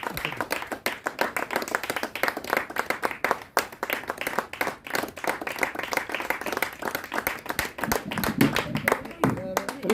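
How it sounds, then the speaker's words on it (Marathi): An audience at an award ceremony breaks into dense, sustained clapping that carries on evenly throughout, with voices faintly under the applause near the end. "प्रचंड टाळ्यांच्या गजरामध्ये आपण त्यांचं स्वागत करायचं. टाळ्या प्रत्येकाने वाजवायचे."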